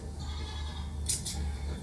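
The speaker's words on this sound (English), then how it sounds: "It's an old goat." An old goat in a TV drama scene gives a brief bleat, moderately loud over a low steady hum.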